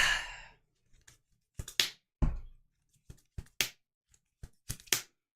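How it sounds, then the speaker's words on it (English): Playing cards from the Flesh and Blood trading card game are flicked and snapped close to the microphone in a series of sharp, crisp papery clicks and flutters, spaced irregularly with quiet gaps between them. "I love that sound of the cards flicking."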